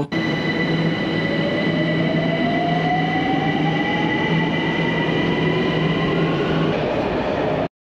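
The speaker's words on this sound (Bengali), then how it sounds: "নিয়ারেস্ট যে মেট্রো স্টেশন, এখানটায় আমরা দুজন নেমে গেলাম" A Tehran metro train runs at steady speed, filling the space with a loud, continuous rumble and roar, thin tonal whines and a slowly rising pitch underneath, with no voices.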